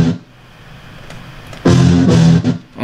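A brass sample run through EQ and overdrive distortion, a quiet murmuring start that gives way to a loud, gritty, harsh stab with a brief dip and a second burst at the end.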